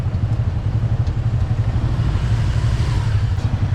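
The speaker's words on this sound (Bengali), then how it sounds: "সামনে মোটর সাইকেল বসিয়ে মডিফাই করে বানানো হয়েছে" A modified tuk tuk with a motorcycle mounted at its front runs with a steady, rough engine drone close by, holding an even level throughout.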